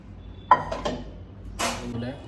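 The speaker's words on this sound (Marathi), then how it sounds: "आधी भांडी लावतो सगळी, खूप पसारा आहे किचनवरती" Dishes and utensils clinking as they are put away in a home kitchen, a few sharp clanks and a brighter metallic rattle, fairly quiet and close.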